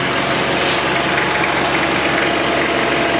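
A faulty Glelec electric motor made in China runs continuously, a loud, dense droning rumble with a rough, knocking vibration and steady level throughout, close to the microphone, with no voices.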